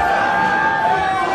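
A concert crowd at a show at the Melkweg in Amsterdam cheers in a loud, steady, dense roar that holds without a break.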